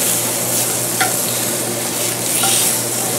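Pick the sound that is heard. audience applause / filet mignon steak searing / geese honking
filet mignon steak searing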